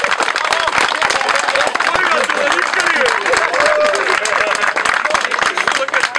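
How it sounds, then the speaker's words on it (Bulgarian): Vigorous, loud applause fills a hall at a car club's tenth-anniversary gathering for Moskvich owners, with dense rapid clapping and a murmur of crowd voices and shouts underneath throughout. "Бурни аплодисменти за него."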